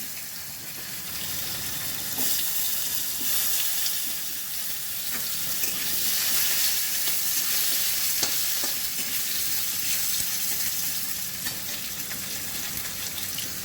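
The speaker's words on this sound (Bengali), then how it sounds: "দুটো শুকনো লঙ্কা ফোড়ন করছি মেথি সর্ষেটা ফোড়ন করে দিলাম এবার আমি আলুগুলো দিয়ে দিলাম" Potatoes frying in oil with dried red chillies, fenugreek and mustard seeds, a dense continuous sizzle with occasional light scrapes of stirring, close and even throughout.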